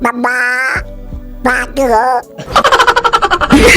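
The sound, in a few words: man imitating duck quacking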